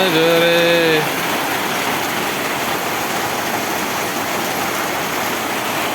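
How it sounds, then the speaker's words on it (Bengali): A downpour pounds a tin roof at a rural home in Lakshmipur, Bangladesh, with a loud, unbroken wash of rain. A brief tonal voice-like sound rises over it at the start, then the steady roar continues alone. "এখন তো বৃষ্টি আরো জোরে নামছে আরো জোরে আরো জোরে নামছে বৃষ্টি"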